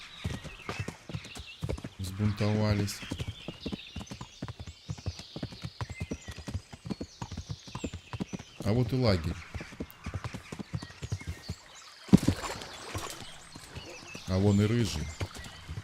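Horse hooves clip-clop in the medieval video game Kingdom Come Deliverance, bursts of rhythmic trotting steps with a whinny, while someone talks over them.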